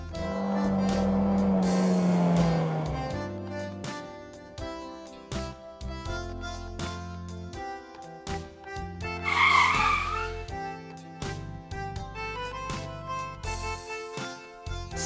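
A big Lightning McQueen toy race car skids with a brief tire squeal at the start, then engine and racing effects run under steady, busy background music.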